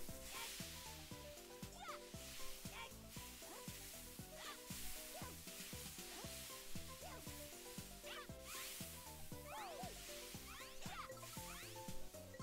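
Cartoon frying sound effects from a cooking minigame in Super Mario Party. Quiet bursts of sizzling repeat rapidly over bouncy game music.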